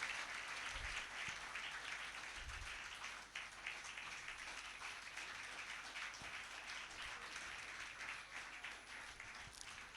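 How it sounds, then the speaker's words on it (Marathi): An audience claps to welcome guests onto the stage at a church gathering, a steady moderate wash of applause lasting throughout without talk. "आपण सर्वांनी जोरात टाळ्या वाजवून त्यांचे स्वागत करूया।"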